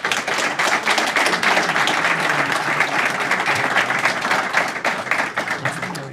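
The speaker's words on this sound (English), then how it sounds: "Can everybody give Nate a round of applause?" An audience at a tech meetup applauds a speaker after a talk, producing dense, steady clapping that fills the room at a strong, even level for several seconds. No talk rises above the clapping.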